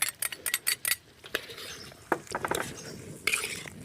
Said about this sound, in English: Now, we stir in some tomato sauce or tomato puree.